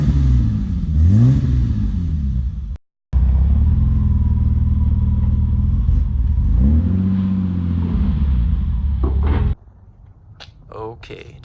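BMW E30 with an M20 engine and Magnaflow exhaust starting up, a loud close rumble with a brief cutout, then steady idle and rising revs before the engine note drops away, with a few faint noises at the end.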